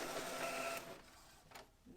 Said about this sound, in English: So I'm going to go ahead and send this to print now.